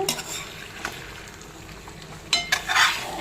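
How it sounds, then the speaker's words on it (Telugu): A spoon scrapes and turns spicy Andhra chicken fry with egg in a pan, with gentle sizzling underneath and a few louder clattering strokes near the end, close by and without any talking. "ఎగ్ వేసాం కదా, చాలా జాగ్రత్తగా కలుపుకోవాలి"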